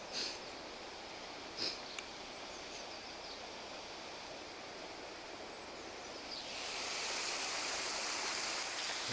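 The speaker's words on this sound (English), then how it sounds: "The old river's looking a bit icy this morning." An icy river on a snowy December morning flows with a steady, soft rushing hiss, a couple of faint clicks early on, swelling slightly louder toward the end.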